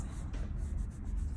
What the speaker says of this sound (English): I'm gonna start to erase